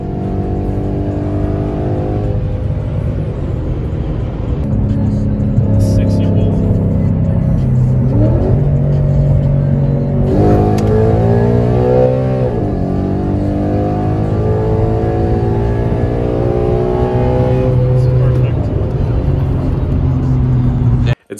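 A car accelerates hard through several gear shifts that kick out the rear tires. The engine's loud, sustained roar climbs in pitch, breaks at each shift and climbs again, with brief voices now and then.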